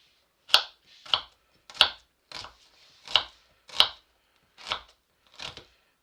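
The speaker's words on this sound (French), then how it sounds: "Donc là, on va couper les oignons." Knife chopping onions on a cutting board, eight crisp separate cuts at a steady, unhurried pace, close and clear with near silence between strokes.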